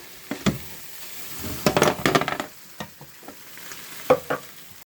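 Flour being stirred into a pan to cook out, with scraping strokes and light sizzle in irregular bursts, close and alone with no talk.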